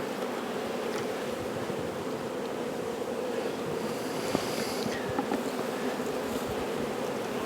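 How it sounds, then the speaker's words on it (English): Honey bees swarm around frames pulled from a hive during a colony split, a dense continuous buzz close by, with a few individual bees droning louder as they pass near. "Plenty of bees."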